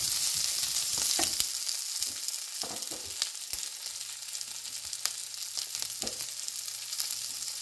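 Capsicum sizzling in hot oil in a pan for Sri Lankan devilled chicken, a loud steady frying hiss broken by scraping spoon strokes as it is stirred.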